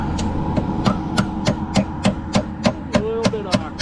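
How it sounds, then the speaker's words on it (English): A hammer nails vinyl siding at the top of a wall, about a dozen sharp, evenly spaced knocks in a steady rhythm, close and clear with no talking. "I'm going to just nail this end here. If I can get my hammer in there."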